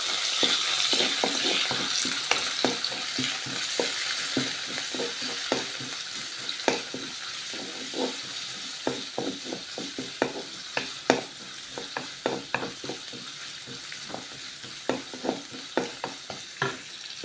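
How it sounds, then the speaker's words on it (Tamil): Green chilies and ginger fry in hot oil with cabbage, a steady sizzle broken by repeated scraping stirs of a spatula in the pan, close and moderately loud. "ஊற்றிட்டு கட் பண்ணி வச்ச பச்சை மிளகா, இஞ்சி ஃப்ரை பண்ணிக்கோங்க."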